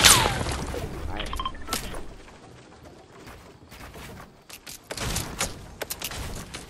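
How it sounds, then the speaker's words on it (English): Gunfire in a shooter video game: a loud opening crack, then scattered sharp shots and crackling bursts, with a denser cluster of shots near the end and quieter gaps between them. "Someone's shooting at me?"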